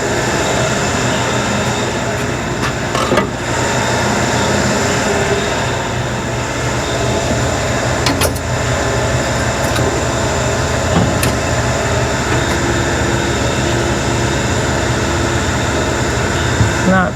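Engine of a 1963 Chevrolet C-20 truck running in a steady, loud, continuous rumble, heard close up with a few faint clicks and knocks over the top.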